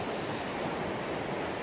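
Ocean waves breaking on a calm seashore, a close, steady wash of surf with wind noise over the microphone and no talking.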